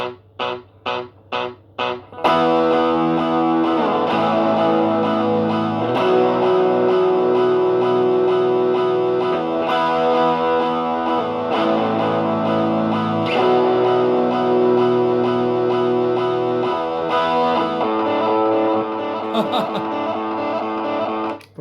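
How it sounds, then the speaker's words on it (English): An electric guitar is played through a distortion effect alongside an Electro-Harmonix Canyon delay and looper pedal. A few plucked notes give way to long, dense, heavily distorted chords that ring on for about twenty seconds. "Let's have some fun with distortion."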